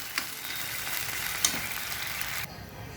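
Sardines sauté with garlic in oil in a pan, a steady, close sizzle with a couple of brief spatters, cooking odong at home, before the sound cuts off abruptly.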